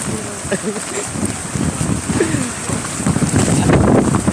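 Strong typhoon wind gusts from Typhoon Ulysses buffeting the microphone in rough, loud bursts that build toward the end, with faint bird calls and brief voices.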